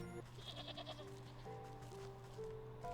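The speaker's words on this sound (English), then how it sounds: "Are you a ridiculously fat mountain goat?" Bleating from a mountain goat in the video game Wytchwood, a few wavering calls over steady background music at moderate loudness.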